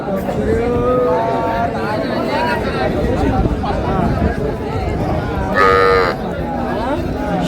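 A cow with her calf at a cattle market in Raniganj lets out a brief low moo amid the steady hubbub of a crowd talking all around, busy and close.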